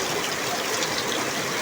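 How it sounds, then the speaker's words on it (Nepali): A waterfall pours steadily during a hailstorm in the rain, a broad, continuous rushing wash of water filling the scene at moderate, even loudness with no break. "झर्ना झरिरहेको छ।"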